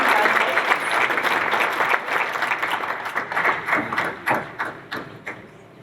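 Audience applause at a Northglenn business appreciation breakfast award ceremony, a dense burst of clapping that thins into distinct individual claps near the end.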